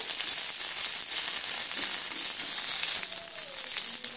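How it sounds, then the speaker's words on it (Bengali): Steady, bright sizzling of cashews and raisins frying in hot ghee, continuous and close, with a faint clink near the end. "কাজু কিশমিশটা আমার এখানে ভাজা হয়ে গেছে।"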